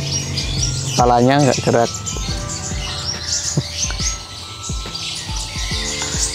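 A small songbird gives a few quick chirps and tweets, with a clearer warbling burst early on, close by under a person talking softly in Indonesian and faint background insects.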